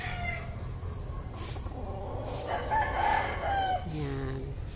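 A rooster crows over a steady outdoor backdrop at a large chicken farm in Marikina City, one drawn-out call rising and falling in the middle, with other fowl faintly audible around it.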